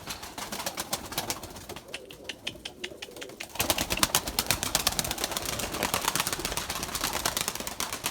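Purebred Erzurum white breeding pigeons coo in a loft, their soft repeated calls scattered over a busy background of rustling and fluttering that grows louder midway.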